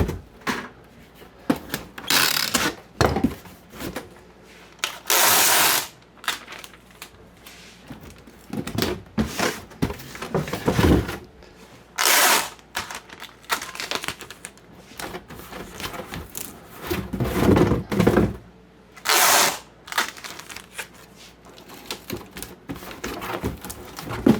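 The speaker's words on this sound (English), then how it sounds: "Give me my tape gun" A tape gun sealing a cardboard box for shipping, with repeated loud screeching strips of tape pulled out in bursts, separated by rustling, tapping and handling of the cardboard close up.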